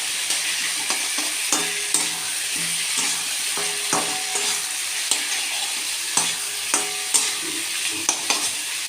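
Kochu chingri with whole chillies being sautéed in a pan: a steady, close frying sizzle with repeated sharp scrapes and clinks of a spatula stirring at irregular intervals, no voices.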